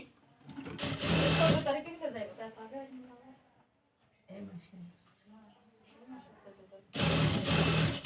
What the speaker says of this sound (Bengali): এই যে সেলাই করে নিচ্ছি